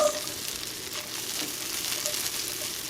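Green beans sizzling in melted butter in a pan, a steady close hiss of frying with soft crackles throughout, no talking.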